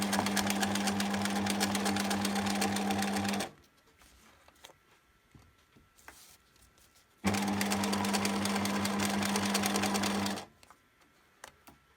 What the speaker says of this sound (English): I can just carry on sewing